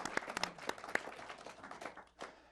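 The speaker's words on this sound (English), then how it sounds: "big round of applause." Audience applause at a local access television station's annual meeting, a burst of scattered, moderately loud clapping from a room of people that thins out over a couple of seconds.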